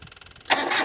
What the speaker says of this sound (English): Try to get a cold start on this oldie.